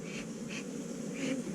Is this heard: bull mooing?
no